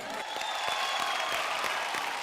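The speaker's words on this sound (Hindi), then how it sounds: "जोरदार तालियां" Steady applause from a television comedy show studio audience, continuous clapping with a broad noisy texture and a faint tone running underneath.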